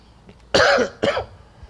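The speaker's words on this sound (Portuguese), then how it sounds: "Viu que eu tô tossindo, vou pegar água." Two harsh coughs close to the mic, a short pause between them, with quiet room noise around.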